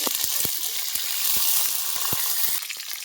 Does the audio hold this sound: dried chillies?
yes